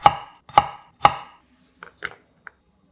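Whole garlic cloves are sliced thin with a knife on a cutting board, making three crisp, evenly spaced chops followed by several lighter, quicker taps, all close and clear in an otherwise silent kitchen.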